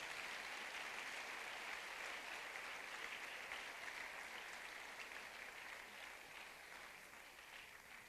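A church congregation applauds in sustained, even clapping that stays fairly distant and soft, tapering slightly toward the end.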